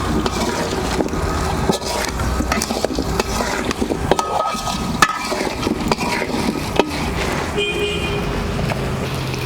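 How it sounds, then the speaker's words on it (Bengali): Vegetables with turmeric powder fry in a pan for temple-style vegetarian bhog khichuri, giving a loud, continuous sizzle broken by scraping stirs and occasional sharp knocks of the utensil. "হলুদের গুঁড়ো, সবজিটা একটু ভালোভাবে ভেজে নিতে হবে।"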